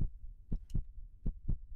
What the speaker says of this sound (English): Is that a heartbeat noise in the background?